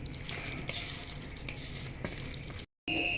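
Beef with turmeric and crushed red chilli being mixed in a hot karahi pan for beef pasande, a steady close sizzle with scraping stir strokes, broken by a brief silent gap near the end.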